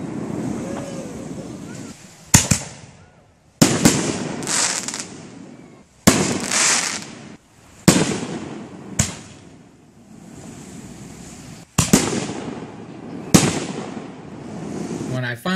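A local Fourth of July fireworks show near Lake Superior in Michigan, with about eight sharp booms spaced a few seconds apart, each trailing off into crackle, over wind and surf noise outdoors.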